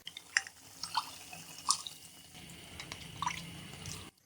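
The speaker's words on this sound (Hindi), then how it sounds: "अब हम इसमें लहसुन वाला पानी दोबारा से शामिल करेंगे।" Garlic water trickles and splashes into a pot of beef tikka karahi in uneven bursts, with several sharp drips and clinks close by, stopping abruptly at the end.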